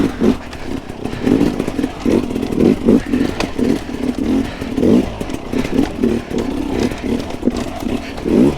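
Enduro dirt bike ridden along a rough hard-enduro trail, the engine pulsing and revving in uneven bursts as the rider works the throttle, steady and close throughout, with no talk.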